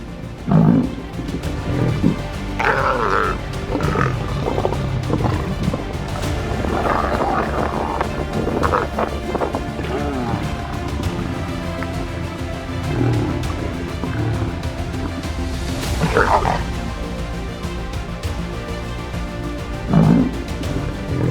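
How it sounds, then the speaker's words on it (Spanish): Lions roar and grunt over downed buffalo prey. Repeated low growls and heavy rumbling bursts rise and fall over a long stretch, with wind-like background noise. "Los leones logran abatir a su presa."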